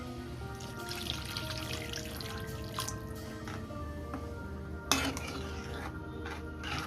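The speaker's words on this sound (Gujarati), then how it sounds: "કપ જેટલું પાણી એડ કરી દઈએ" Water is poured into a pot of spiced potato and soybean curry on the stove, a soft trickle with small drips and a sharp metallic clink of cookware, faint and without talk.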